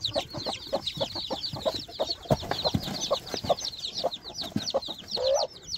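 A Cheonggye hen in a brooding pen clucks and chatters busily while tiny chicks peep constantly around her, close and moderately loud, with soft rustling and no talk.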